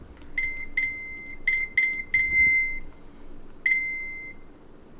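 A phone gives off a run of short, bright electronic beeps in quick uneven bursts, then one more after a brief pause, close and clear over a quiet background.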